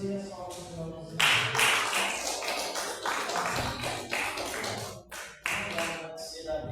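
Congregation clapping during a church service, a dense patter of many hands that swells and dips in bursts, with a voice speaking over it.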